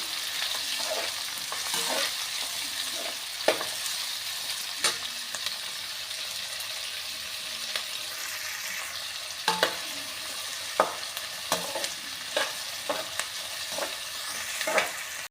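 Onions frying in a pan for a potato sabzi, a continuous sizzle broken by frequent spatula scrapes and taps as they are stirred without pause.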